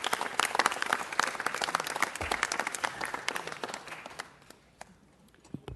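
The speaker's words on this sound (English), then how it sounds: "Let's bring her to the mic and give her a round of applause." Applause from the audience at a city council meeting, dense clapping that carries strongly for about four seconds, then thins out and fades to a few scattered claps.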